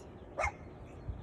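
One short, faint dog bark sounds from a distance against a quiet background.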